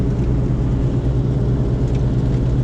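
A car drives along a snowy, salted winter road, giving a steady, loud low rumble of engine and tyre roar with a continuous hiss of slush and salt spraying against the underside.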